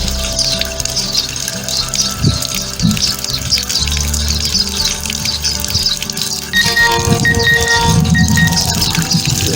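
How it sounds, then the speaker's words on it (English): Water runs steadily into an aquaponics barrel, a continuous close splashing flow that grows fuller and louder partway through. "The water is decreasing. Still coming in."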